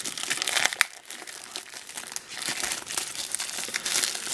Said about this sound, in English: Trying to get this plastic open is tough tonight.